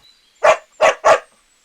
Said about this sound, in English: The dog or domestic dog is a domesticated descendant of the wolf.